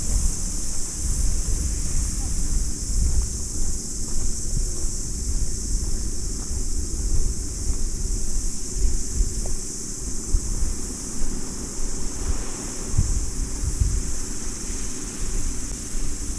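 Steady surf washing onto a small beach at Orere Point, with a constant low rumble and gusty wind buffeting the microphone throughout.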